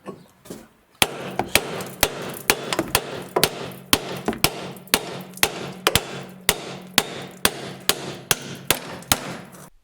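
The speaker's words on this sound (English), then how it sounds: "take a hammer and see if we can pound it out of the steering knuckle" A hammer pounds a strut bolt out of the steering knuckle on a 2007 Chevy Equinox front suspension, a steady run of about twenty loud, sharp metallic blows at a regular beat, close up.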